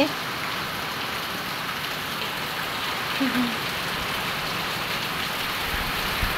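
Steady heavy typhoon rain hisses without letup, a dense wash of drops drumming on a surface close by.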